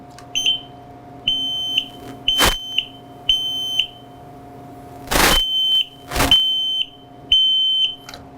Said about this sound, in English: So those are 3 beeps that indicates that the smoke detector has activated.